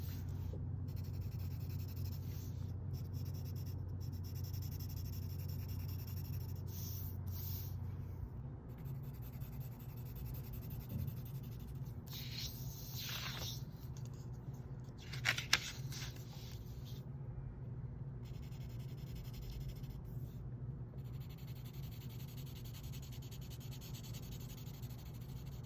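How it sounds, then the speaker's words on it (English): The side of a pencil shades across paper in a soft, continuous scratchy rubbing with steady back-and-forth strokes, quiet and close, with no talking. "I'm using the side of my pencil the whole time to do this."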